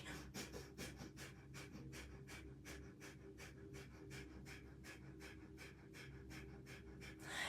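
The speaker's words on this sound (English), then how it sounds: "you're going to breathe in and out of your nose really, really quick" Quick, forceful breaths in and out through the nose repeat in a fast even rhythm, about three per second, close and alone during a guided meditation exercise.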